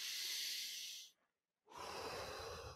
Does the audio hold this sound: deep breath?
yes